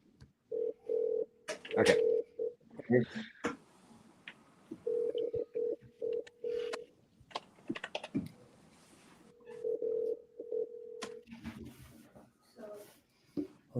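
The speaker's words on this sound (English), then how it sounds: "Can you guys hear that ringing?" A telephone ringback tone sounds in regular long beeps with gaps between them, clear and close, while someone speaks briefly and clicks and taps come in between the rings.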